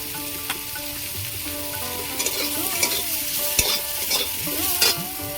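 Fried fish is stirred with turmeric powder in a pan, a steady sizzle overlaid with repeated sharp scrapes and clatters of a spatula against metal, close and moderately loud.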